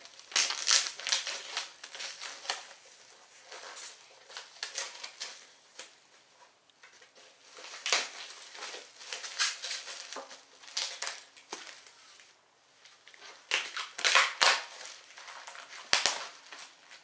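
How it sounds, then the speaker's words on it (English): Plastic packaging is peeled and crumpled off a Pro-Lite surfboard traction pad and leash, with irregular crinkling and crackling bursts close up and no talking. "It's time to use this Pro-Lite trackpad and leash, so I'm going to go ahead and take the packaging off this thing here."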